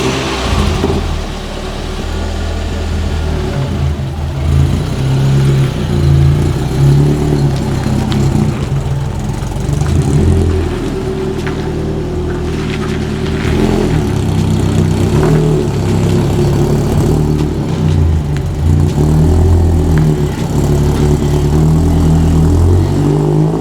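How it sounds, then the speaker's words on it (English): A Ford Fiesta ST on new JR alloy wheels idles close by after starting, its engine a steady low drone with mild swells as it rolls forward and back, loud and continuous with no voices. "I'm just going to start the car up, roll it forward and back a few times"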